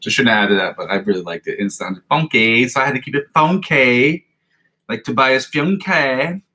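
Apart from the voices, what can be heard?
No everyday noise stands out behind the speech.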